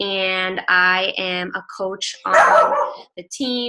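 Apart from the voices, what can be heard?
dog barking in the background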